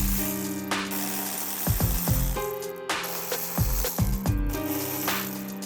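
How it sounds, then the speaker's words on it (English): A ratchet loosening M10 bolts on the downpipe hanger of a 2018+ Audi B9 S4, with close bursts of clicking strokes separated by pauses and occasional metallic taps, ringing against a steady background hum. "Now we've got to get these 2 bolts off that hold this hanger for the downpipe."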